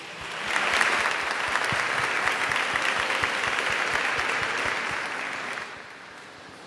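An audience at a solemn session honouring the King of Nigeria breaks into steady, full applause lasting around five seconds, with a few sharper individual claps, then it tapers off.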